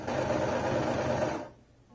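A sewing machine stitches skirt panels with a brief burst of close, fast mechanical whirring that runs about a second and a half before stopping, leaving quiet room tone.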